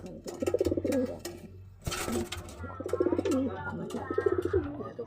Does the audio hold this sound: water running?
no